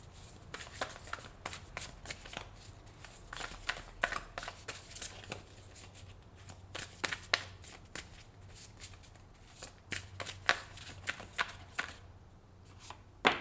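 Quiet, close riffling and slapping of tarot cards being shuffled, coming in uneven bursts of crisp flicks separated by brief pauses.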